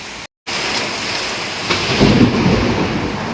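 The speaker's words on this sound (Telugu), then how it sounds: "ఎక్కడో పడింది పిడుగు." A deep roll of thunder swells midway through over a steady wash of heavy rain, loud and close, during a windstorm in Alluri district, India.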